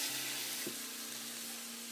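Sausage browning in a pot gives a faint, continuous sizzle and frying hiss, with one soft clink of a utensil partway through.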